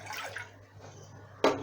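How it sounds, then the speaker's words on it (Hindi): Two cups of water poured into a pan on a freshly lit stove for ginger tea in Kolkata: soft splashing bursts over a steady low hum, ending in one louder, closer splash. "लाइटर जला के ये 2 कप पानी डाल दें।"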